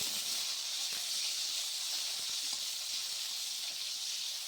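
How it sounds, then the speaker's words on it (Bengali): Chopped ginger and garlic frying in oil give off a steady, fairly quiet hiss with faint crackles and no voices. "আমি আদা কুচি, রসুন কুচি দিয়ে একটু সামান্য ভাজবো।"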